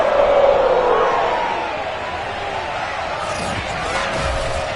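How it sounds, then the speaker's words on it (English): A sold-out stadium crowd roars for the Cincinnati Bengals at an NFL football game, a broad sustained wash of cheering heard from a distance, with a voice rising above it early on and the noise easing slightly toward the end. "The enthusiasm of this Cincinnati crowd in full effect a moment ago as their Bengals took the field to the delight of this sold-out crowd"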